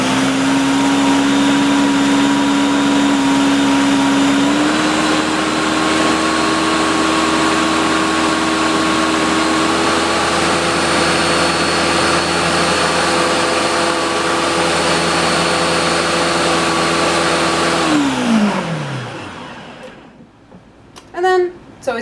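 A food processor blends olive oil into aioli with a loud, steady motor whir that runs for about eighteen seconds, then winds down and stops, followed by a few faint clicks.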